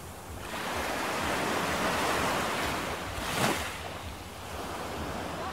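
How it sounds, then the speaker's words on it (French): Strong Mistral wind roars steadily in the open, a broad rushing hiss buffeting the microphone with one brief louder gust midway, no voices. "Il y a du vent, il y a du Mistral."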